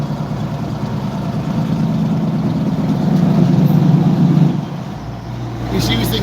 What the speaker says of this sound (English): He is doing the Jake brake. That's that noise.